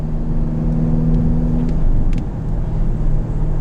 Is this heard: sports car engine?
yes